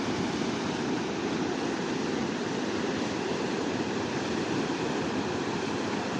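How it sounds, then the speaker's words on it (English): Big ocean waves breaking at Manu Bay, Raglan, a surf break, make a steady, dense roar of surf that holds at the same loudness throughout, with no voices. "Some big waves going on."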